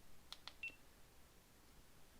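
A GoPro camera gives three quick, high beeps close together as recording starts. They are faint and clean against quiet room noise, with no talking.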